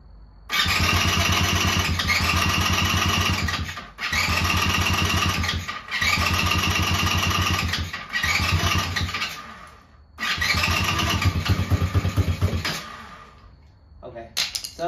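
A Tao Tao 110cc quad engine starts and runs in several loud bursts, sputtering and cutting out between them, then restarting before fading near the end.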